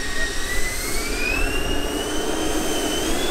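A giant radio-controlled Airbus A350 XWB model jet flies slowly overhead, its turbine giving a loud, steady whine with a rising tone over a constant roar, and no one talks.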